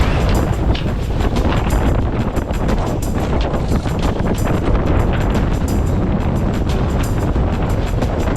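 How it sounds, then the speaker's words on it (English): Brisk wind blows steadily over a sailboat at sea as the crew reefs sail, a loud, continuous rushing roar that buffets the microphone throughout, with no voices. "As we neared the western coast of this bay, we found a funnel of brisk wind that soon had us reefing."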